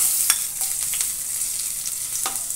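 Ginger frying in cooking oil in a pan for chicken soup, giving a steady bright sizzle with a few soft stirring clicks, close and continuous with no talk.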